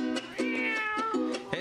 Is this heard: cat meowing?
yes